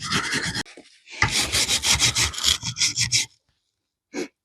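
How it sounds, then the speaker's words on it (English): Hand sanding of wood with a coarse abrasive pad: a run of quick, rhythmic rasping strokes, close and fairly loud, stopping abruptly, then one short final scrape after a pause. "I've now got one of these quite abrasive sanding pads, and I'm just going to go over it with that"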